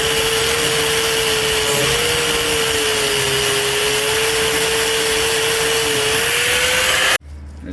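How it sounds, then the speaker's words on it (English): Grinder with a flat disc working metal on a Craftsman LT1000 riding mower part, a loud continuous whine held steady for several seconds before cutting off abruptly. "I'm gonna grind this out on both sides"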